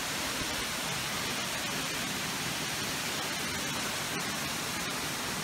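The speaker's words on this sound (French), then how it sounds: "nous sommes arrivés à la cascade. Magnifique cascade." A waterfall at Sillans-la-Cascade gives a constant loud, broadband rush of falling water with no breaks, heard up close and with no one talking.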